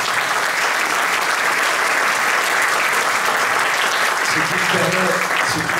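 Loud, sustained applause from a jazz festival concert audience, thanking the sound engineer, a dense continuous wash of clapping with a faint tonal sound rising near the end.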